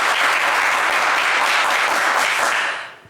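Studio audience at a French general-knowledge quiz show applauding the competing teams: dense, steady clapping from a full room, loud and sustained before tapering off at the end, no voices over it.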